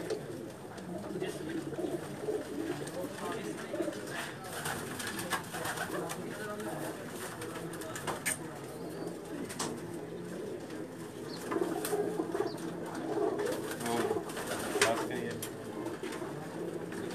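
Domestic pigeons of an old Pakistani breed, including a short-tailed bird, coo steadily on a rooftop loft in Jeddah, with soft birdsong around them and people talking over the top.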